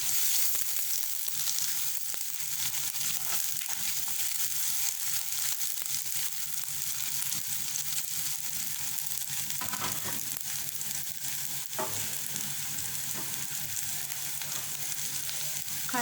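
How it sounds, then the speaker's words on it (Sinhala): Onions fry in a pan for a Sri Lankan style chicken curry. A loud, continuous close sizzle is broken by occasional stirring scrapes. "ලුණු ටික ටිකක් බැදෙන්න තියෙනවා."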